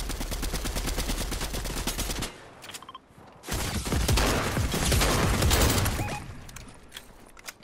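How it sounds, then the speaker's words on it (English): Dense rapid gunfire from a video game, bursts of automatic shots aimed at the player, loud and continuous with a brief lull in the middle before the firing resumes. "Oh, I'm getting shot at!"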